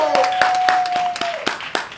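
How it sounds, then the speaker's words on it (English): Several people clapping for a band member at an outdoor concert on a town common, sparse close handclaps, about eight distinct slaps, with a sustained tone and a voice partly underneath. "big round of applause for Mr. Paul Wood!"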